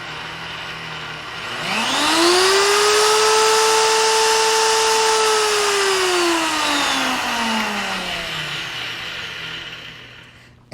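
A Vevor 1300W magnetic drill motor whines up to speed, holds a steady high-pitched tone for several seconds, then winds down as it switches off.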